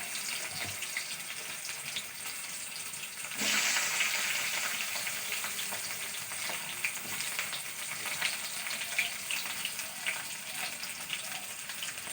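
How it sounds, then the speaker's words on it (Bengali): Pointed gourd (potol) frying in hot oil gives a steady, close sizzle with a continuous crackling hiss. It gets louder and more intense from a few seconds in, and no one speaks. "পটল ভেজে নেব।"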